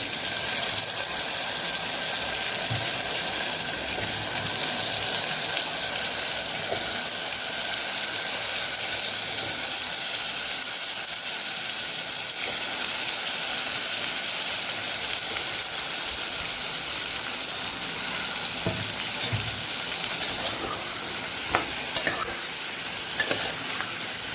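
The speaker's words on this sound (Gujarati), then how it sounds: "અહીંયા આપણા ટમેટા સોફ્ટ થઈ ગયા છે તો બટેકાને ઉમેરી દઈશું" Potatoes fry in a pan with softened tomatoes and turmeric for a Kathiyawadi potato curry, a steady loud sizzle and hiss running throughout with occasional scrapes of stirring, close and without talk.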